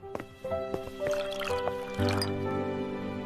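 Water being poured into a container, a close run of drips and splashes that turns into a fuller filling gurgle partway through, fairly quiet and with no talking.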